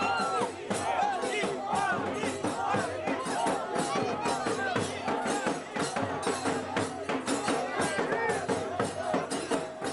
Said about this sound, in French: cristallisé dans une expression de joie chantée à l'unisson par la foule présente